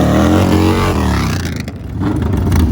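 A chopper motorcycle without a wheelie bar or air shifter roars at a drag race start, its loud close engine revving hard, dipping briefly and surging again in a harsh, rough blare.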